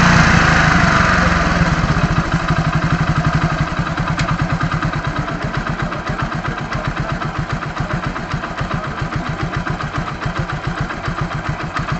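Motorcycle engine idling close by with a steady, rapid thumping beat, slowing slightly as the idle speed is adjusted down, loud and continuous with no talk.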